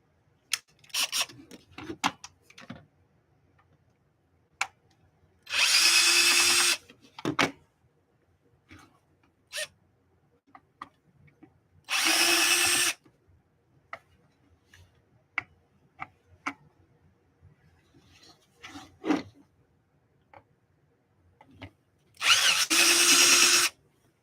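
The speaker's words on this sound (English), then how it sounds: "I think I will use my power screwdriver." A power screwdriver backs screws out of a sewing machine foot controller on a workbench, firing in three loud, steady whirring bursts of a couple of seconds each, separated by quieter clicks, taps and handling of parts.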